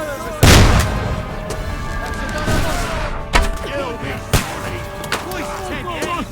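A heavy cannon blast booms once near the start of a Kingdom Come Deliverance 2 battle, followed by a few lighter thuds and impacts under shouting voices and a tonal backdrop.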